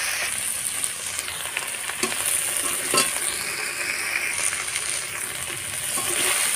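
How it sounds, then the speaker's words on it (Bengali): Shell-on prawns fry steadily in hot oil, giving a continuous close sizzle with scattered crackles and pops and no voices over it. "মাছগুলো ভালোভাবে ভাজা হয়ে গিয়েছে"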